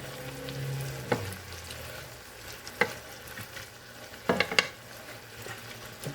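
Meat browning in a frying pan, a soft low sizzle broken by a few sharp utensil taps and scrapes, fairly quiet and close.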